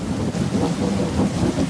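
Thunder rumbles beneath steady, heavy rain during a Kalbaishakhi pre-monsoon storm in Odisha, forming a continuous, loud wash of noise with no voices.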